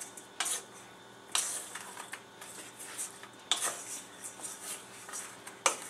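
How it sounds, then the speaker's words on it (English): Braised red potatoes with lemon juice and pepper being stirred in a pan, with a series of light clinks and scrapes of a utensil against the cookware over a quiet background. "so I'm just going to stir them"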